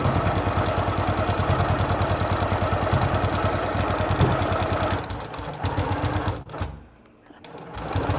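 A sewing machine runs steadily, stitching fabric for patchwork stockings, its fast even chatter close and continuous before slowing and stopping near the end.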